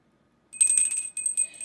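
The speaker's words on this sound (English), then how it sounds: "that's me ringing the bell" A small bell rings with bright metallic shimmer, struck a few times in quick succession after a moment of silence, close and clear.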